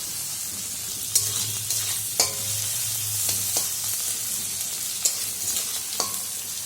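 Salted, turmeric-coated prawns fry in a pan with a constant close sizzle, punctuated by several distinct clinks and scrapes as they are stirred.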